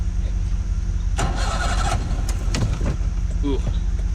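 A restored boat engine cranks and catches after about a second, with a low battery slowing the start, then settles into a steady close idle while people talk around it.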